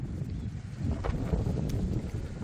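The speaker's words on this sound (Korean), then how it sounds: "여기가 바람이 세거든요" Strong wind blows across an African garden plot behind a walled enclosure with banana plants, a steady loud rushing roar buffeting the microphone throughout with no talking.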